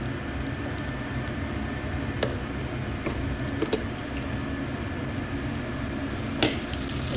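Fish fillets fry in a hot pan outdoors, giving a steady, crackling sizzle with a constant hiss and occasional sharper pops, close and continuous with no talking.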